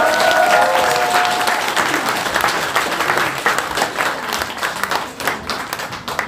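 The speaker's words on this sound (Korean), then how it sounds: "우리 큰 박수로 한번" A crowd at a campaign office opening for a Gyeyang district mayoral candidate gives loud, sustained applause, dense clapping that starts strong and slowly thins toward the end.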